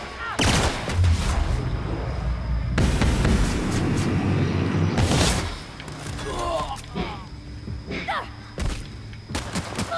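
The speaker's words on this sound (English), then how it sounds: "It's like a pulse rifle, handgun style." Pulse rifle handgun fire in The Outer Worlds: loud sharp bursts of shots with thuds and booms, then scattered single shots, with a voice talking in between.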